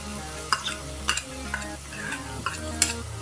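A green paste of ginger, garlic, dry coconut and coriander is sautéed in a pan for Kolhapuri misal, with a soft sizzle under regular spatula scrapes and clinks about every half second.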